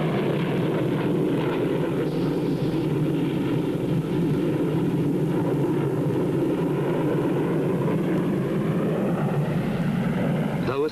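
BAE Hawk jet trainer in a normal inverted spin during a test flight, a steady loud roar of jet engine and rushing air that holds constant throughout, heard from on board.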